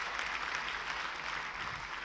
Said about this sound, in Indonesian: kalau mau tepuk tangan yang paling meriah